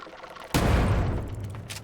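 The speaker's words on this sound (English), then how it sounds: "I'm gonna use my first grenade here" A grenade blows up in the lowpoly survival-horror game Crow Country: one sudden loud boom after a brief quiet stretch, followed by a rumbling, crackling decay that fades slowly.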